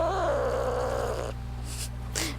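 A cat in the Nancy Drew: Sea of Darkness game lets out a drawn-out, wavering meow for over a second, close and loud, followed by a couple of brief hissing bursts over a steady low hum.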